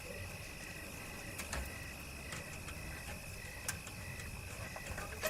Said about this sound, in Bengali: কানে ভেসে আসছে শুধু ঝিঝি পোকার ডাক